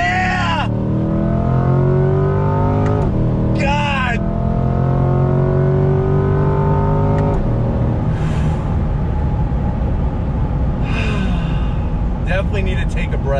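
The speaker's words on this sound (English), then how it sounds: "Third gear on throttle, here we go." A 2020 Chevrolet C8 Corvette Z51 accelerates in third gear, its engine note rising in loud, sustained sweeps with a sharp shift break midway, followed by further climbing revs.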